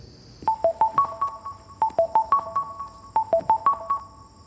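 A phone ringing in a Hindi film, repeating bursts of a bright melodic electronic ringtone pattern, three phrases in quick succession, clear and close with no talk over it.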